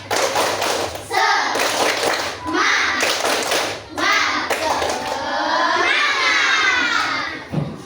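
Children clap together in a quick patterned rhythm for the Indonesian "tepuk semangat" clapping chant, loud and close, alongside shouted group chanting and an adult voice.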